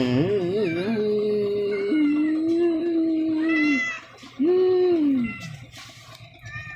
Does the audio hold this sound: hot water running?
no